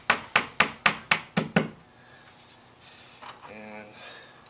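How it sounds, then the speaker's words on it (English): A hammer driving a nail into a wall to hold a picture hook, seven sharp evenly spaced strikes that then stop, followed by quieter handling noise. "And we hammer that in."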